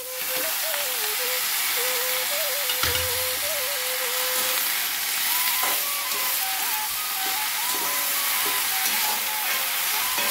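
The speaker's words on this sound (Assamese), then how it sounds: "পুৰৈ শাকখিনি দি দিছোঁ" Malabar spinach (puroi greens) goes into a pan of lightly fried potatoes, giving a loud, constant steamy hiss and sizzle that stays close and steady, with a few faint knocks and no voices.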